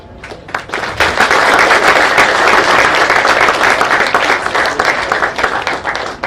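A large audience at the BAJA SAEINDIA 2023 eBAJA inauguration session bursts into a huge round of applause, loud, dense and sustained for several seconds before tapering slightly at the end.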